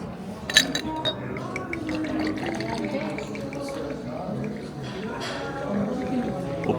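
Sparkling water is poured into a glass, with glassy clinks and a fizzy liquid fill, while voices murmur throughout in the background of a hotel room near London Heathrow airport.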